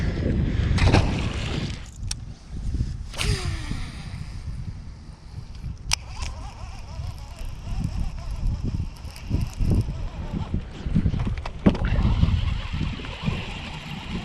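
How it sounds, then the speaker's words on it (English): Strong wind buffets the microphone over a power plant lake's grass flats during a fishing trip, a steady rushing roar with gusts and occasional knocks from the boat. "The wind is absolutely nuts"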